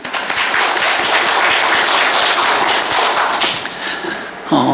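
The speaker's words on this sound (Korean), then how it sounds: "박수 한번 했으면 좋겠어요" Church congregation applauding during a Sunday sermon, loud crisp clapping from many hands, sustained and close, tapering slightly near the end as a voice begins.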